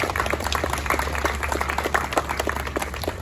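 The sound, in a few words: audience applauding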